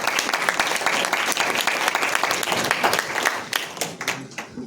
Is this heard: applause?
yes